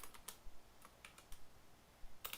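Light, sparse clicks of a computer keyboard, a few quick keystroke bursts separated by short pauses, fairly quiet and close with no talking.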